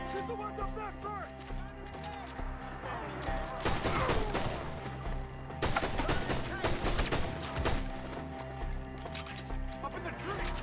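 Red Dead Redemption 2 gunfight with rapid bursts of shots, some close and loud, clustering in heavy volleys around the middle and again later, over game music and shouting voices.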